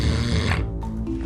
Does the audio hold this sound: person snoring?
yes